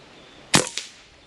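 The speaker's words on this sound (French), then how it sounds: "J'ai tiré deux en même temps, j'ai amorcé deux fois" A Reximex NYX .25 calibre PCP air rifle fires, giving a sharp crack followed a split second later by a second, quieter crack, each standing alone against a quiet outdoor background.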